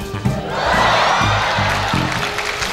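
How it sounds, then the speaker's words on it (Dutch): A circus audience at a Christmas circus in Utrecht in 1990 cheers and claps, a dense, loud crowd roar holding steady throughout, with music thumping rhythmically underneath. "Applaus"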